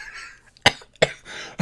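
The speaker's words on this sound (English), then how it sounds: "I apologize for the coughing." A person coughs two sharp, close bursts about a third of a second apart, with a third cough just starting at the end, over a quiet background.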